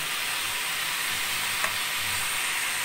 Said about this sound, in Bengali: বন্ধুরা এটা ভাজা ভাজা হয়ে আসছে